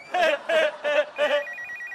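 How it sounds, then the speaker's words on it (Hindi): A telephone rings in four regular bursts of warbling electronic tone, loud and close, followed by a softer repeating beep pattern. "भाई फोन आ रहा है"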